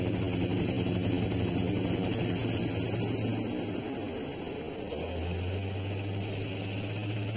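A helicopter carries a load on a long line for cable car construction in Hong Kong, giving a constant, loud rotor and engine drone with a slight shift in tone partway through and no talking.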